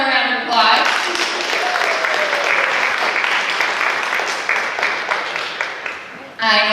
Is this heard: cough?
no